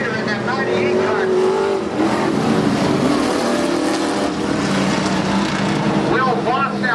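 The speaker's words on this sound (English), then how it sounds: "Will Voth now being challenged by that 17 car" IMCA stock cars racing on a dirt track, engines roaring and revving continuously as cars pass and battle for position, loud and dense, with an announcer's commentary running over the racing.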